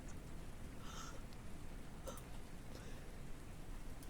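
Soft rain falls steadily outside, a quiet continuous hiss with faint scattered taps, heard from indoors at low volume.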